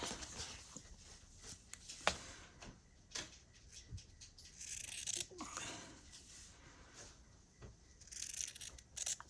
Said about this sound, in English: I just get my scissors and I cut 1/4 inch around it